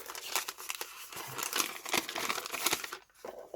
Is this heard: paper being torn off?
yes